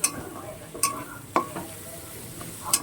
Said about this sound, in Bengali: এটাকে আমি এই চিংড়ি মাছের সাথে পুরোপুরি ভেজে নেব